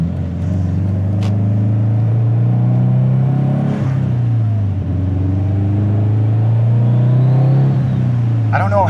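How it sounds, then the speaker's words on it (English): A built 2005 Subaru STi with an FP Black turbo accelerates from inside the car, its engine droning and rising with rpm through gear changes while a turbo whistle climbs above it, loud and close. "I don't even know if you guys can hear that turbo right now,"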